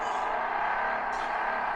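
Car engine in the Call of Duty Mobile video game, a steady close engine drone with constant loudness throughout, no talk.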